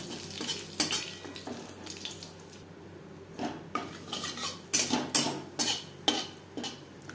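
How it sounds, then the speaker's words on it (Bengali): Whole cumin seeds fry in a little oil for a fish curry while a utensil clinks and scrapes against the pan in sharp, uneven bursts over a faint background sizzle. "কুড়ি পঁচিশ সেকেন্ড জিরে ভেজে নেওয়ার পর দিয়ে দেবো মশলাকে"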